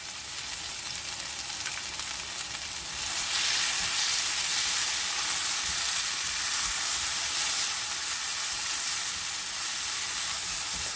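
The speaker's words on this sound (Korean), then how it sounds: "똑같은 방법으로 풋고추를 볶아주세요." Green chili peppers are stir-fried with a pinch of salt in a hot pan, giving a continuous close sizzle and hiss that grows a little louder partway through, with no talking.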